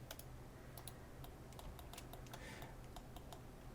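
Keyboard keys being pressed at a computer while working in Blender, a series of crisp, separate clicks at an irregular pace over a steady low background hum.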